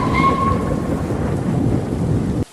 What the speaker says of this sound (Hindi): उस दिन बहुत ही ज़्यादा तेज़ बारिश हो रही होती है और रात का टाइम होता है।